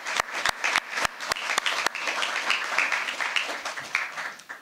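An audience applauds the 2020 class of South Carolina Chef Ambassadors at the governor's announcement, starting with a few sharp distinct claps that swell into a brief, moderate round of steady clapping.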